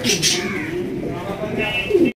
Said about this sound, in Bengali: এখানে রয়েছে একটা প্রোমানিয়াম পটার কবুতর হোয়াইট কালার মধ্যে